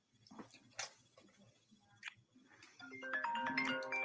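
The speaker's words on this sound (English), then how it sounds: "Getting a phone call." Phone receiving an incoming call, with a melodic ringtone starting near the end, loud and close after a stretch of quiet rustling and small taps.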